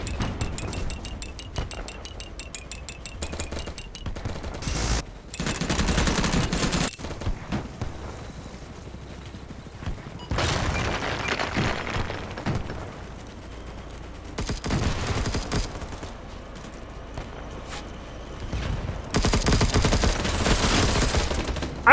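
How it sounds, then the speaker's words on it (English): Rapid bursts of video game gunfire crackle through a chaotic shootout, coming in loud clustered volleys with brief lulls between them and scattered metallic clinks. "There's a guy on the ground shooting directly at them and I get shot instead of him."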